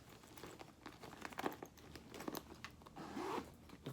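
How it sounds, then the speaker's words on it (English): Close, quiet zipping sounds come from closing the wallet compartment of a Louis Vuitton Hoxton GM bag. Several drawn-out zip runs mix with soft crinkling and rustling of the contents. "now I'm going to go ahead and zip up where my wallet is"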